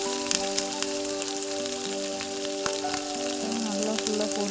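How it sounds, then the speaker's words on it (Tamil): Tuber chips frying in hot oil: a dense, loud, continuous crackling sizzle with scattered sharper pops throughout, with no voices over it. "நல்லா ஃபுல்லாக பொரிஞ்சு வருது."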